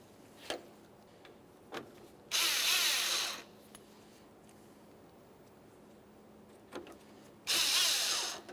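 A power driver sends Phillips head screws into the grille mounting hardware on a 1994-1997 Honda Accord, giving two short whirring runs a few seconds apart, with light clicks and taps between them, close-up and without speech.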